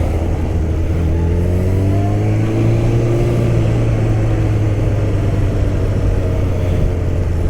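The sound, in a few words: Suzuki Bandit motorcycle riding, no ABS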